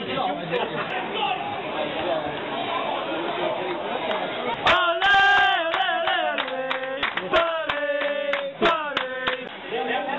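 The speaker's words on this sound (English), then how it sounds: "Clap your hands!" Football supporters of Barry Town clap their hands in a crowd, starting under chanting and babble, then sharp rhythmic claps alongside loud singing voices.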